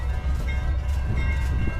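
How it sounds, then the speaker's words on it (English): Amtrak's Silver Meteor train 98 departing the Sebring station downtown, a loud, close rumble of rolling cars with sustained horn tones over it. "we're watching the 98 Silver Meteor. Downtown Sebring, departing the Sebring train station."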